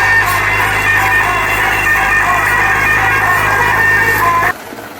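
A tubewell pump engine runs with a steady, loud, continuous mechanical drone that holds unchanged for several seconds, then cuts off abruptly near the end.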